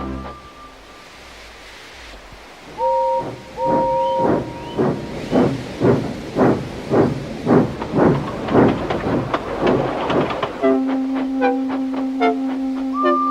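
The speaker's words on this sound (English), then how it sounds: "Gordon came clanking past, hissing rudely." Steady rhythmic chuffing from a steam engine builds in pace, with bursts of hissing steam and a two-tone whistle sounding near the end.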